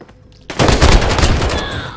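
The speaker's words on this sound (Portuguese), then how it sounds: "Tá atirando em mim!" Gunfire from the video game Call of Duty Warzone in a fight against bots: after a quiet moment, a loud burst of rapid automatic shots erupts and continues densely for over a second.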